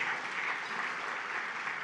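Applause rises from an audience at an entrepreneur inductee dinner. It is a steady, even wash of many hands clapping, moderately distant and consistent throughout, with no voices on top.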